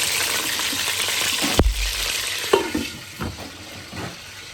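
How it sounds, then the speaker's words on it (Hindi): Mutton pieces dropped into about half a cup of hot oil hit with a sudden burst of loud sizzling, then settle into a steady frying hiss with occasional pops and clatters from the pan. "उसको अच्छी तरह हमने गर्म करके और इसके अंदर हम लोग डाल रहे हैं ये गोश्त"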